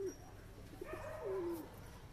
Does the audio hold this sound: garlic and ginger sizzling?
no